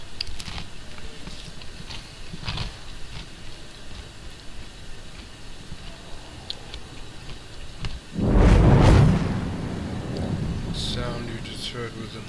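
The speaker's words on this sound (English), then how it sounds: "Sound you just heard was another fellow jumping in." Another player's ship jumping in within the Star Citizen video game's Crusader star system: a single loud whooshing burst that swells and fades over about a second, over a steady low ambient hum.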